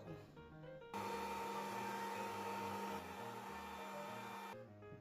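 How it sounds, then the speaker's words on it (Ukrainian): An electric meat grinder whirs at a steady loud hum as it minces a fried mushroom and cabbage mixture for mushroom patties, starting abruptly and cutting off near the end. "Міс цієї миски прокрутимо через м'ясорубку."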